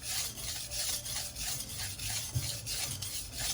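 Close, rhythmic rasping strokes of a knife blade drawn across a 120 grit sharpening stone, repeated evenly at a quick pace with no talking.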